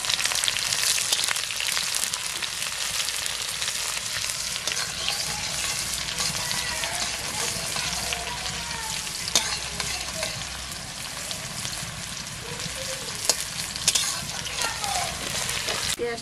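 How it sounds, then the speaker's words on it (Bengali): Chopped onion fries with cumin in hot oil, producing a continuous, close sizzle with scattered clicks and scrapes of stirring throughout. "একটা পেঁয়াজ কুচি করা ছিল এর মধ্যে দিয়ে ভালো করে ভেজে নেব"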